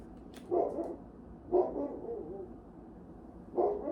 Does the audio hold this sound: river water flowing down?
no